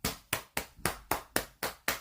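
Eight steady, evenly spaced hand claps from a single person, close and crisp, with no other sound between them.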